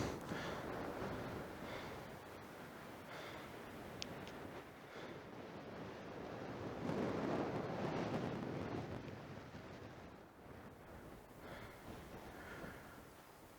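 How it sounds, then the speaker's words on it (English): A steady breeze blowing across a mountain summit on Wales' Nantlle Ridge, a soft continuous rush with gentle swells and gusts buffeting the microphone, with no talking. "Quite breezy,"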